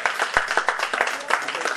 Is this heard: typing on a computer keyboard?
no